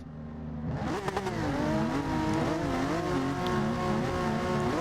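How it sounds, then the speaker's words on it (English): Race car engines in a sim racing video game rev before the race start, a dense, steady chorus of several engines rising and falling in pitch, loud and continuous. "Engines revving, everybody's preparing to start"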